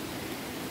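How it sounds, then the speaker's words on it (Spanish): Steady rain falls during a family walk outdoors, a soft, even hiss of drops with no breaks and no voices. "Así que estamos debajo de la lluvia, amigos."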